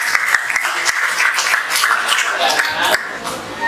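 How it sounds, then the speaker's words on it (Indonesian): Classroom applause for a student during an Islamic religious education lesson, brisk, close clapping from a small group, fairly loud and uneven, tapering off near the end. "Oke, beri tepuk tangan dulu ya."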